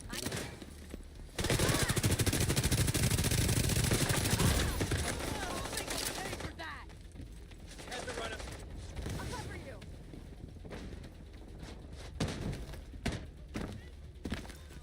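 Video game gunfire from a NextFest demo: a heavy burst of rapid automatic shots early on, followed by scattered sharp single shots and thuds, with someone talking over the action.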